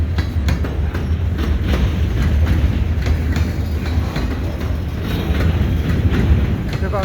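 A CN freight train with new Ontario Northland hoppers passes westbound on the nearest track in winter at St Ambroise Street, a steady heavy rumble with continuous rhythmic wheel clatter close by.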